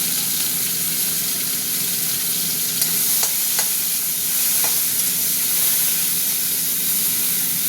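Steady, dense sizzling of vinegar-marinated chicken frying in a pan, close and loud, broken by a few brief crackles or stirring clicks, with no voices.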